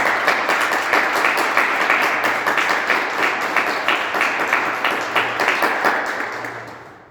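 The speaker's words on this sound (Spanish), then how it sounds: "Dáselo un aplauso al Señor." Church congregation applause offered to the Lord during a sermon, a loud sustained round of clapping with a pulsing rhythm that fades out at the end.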